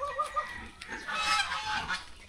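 Geese honk repeatedly in short, nasal, overlapping calls, close and fairly loud, with no talking.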